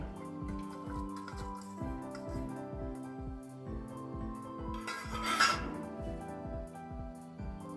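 Water drains from soaked chana dal in a kitchen, a soft, close, irregular dripping and trickling with a brief louder splash partway through, amid a faint steady background hum.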